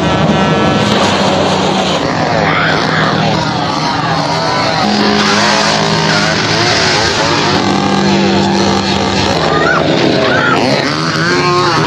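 A car speeds away in a horror film, its engine roaring and whining with shifting pitch, loud and continuous throughout, mixed with other dramatic film sound.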